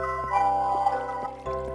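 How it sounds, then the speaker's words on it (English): A waterfall flows in the Minecraft video game, a steady pouring, trickling wash under a constant tonal background, with faint soft bumps every half second or so. "I made a waterfall."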